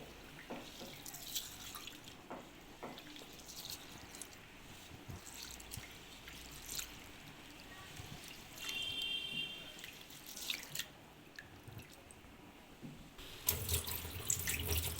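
Rice being rinsed in water for sweet rice, giving a soft, steady run of trickling and swishing water with small drips, quiet and close, with no voices.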